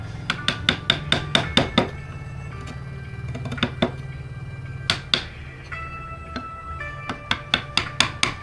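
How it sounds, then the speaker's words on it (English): Mallet or hammer striking a chisel during ornate wood carving in a carpentry village, a close, loud series of sharp ringing taps in quick bursts with short pauses between runs, with no speech. "Very ornate carving going on there."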